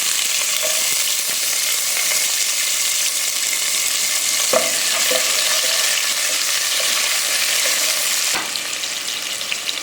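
Whole fennel, cinnamon, cloves and cardamom fry with onion in hot oil for a chickpea gravy, giving a loud continuous sizzle with occasional scrapes and knocks of a stirring spoon.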